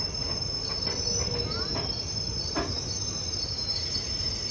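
Palakkad MGR Chennai Central superfast via Palani rolling slowly into Palakkad Junction, a continuous rumble of wheels with brief squeals and clicks, insects chirping steadily in the background, heard from on board.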